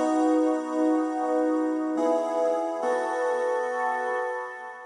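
Roland D-50 synthesizer playing its Seamus Theme patch, a bright, bell-like sustained chord with shimmering overtones that shifts to new chords twice, clear and alone with no talk.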